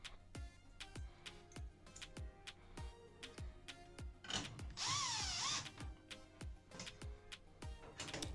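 A drill drives 1/4 screws into a Maytag Bravos washer: a quiet run of regular ratcheting clicks, broken midway by one short, higher whirring burst, with no talking.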